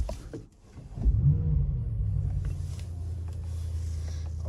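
A Mercedes-AMG E63 S V8 fires up in a quiet setting. A short crank gives way to a loud rumbling flare, which settles into a deep, steady idle burble.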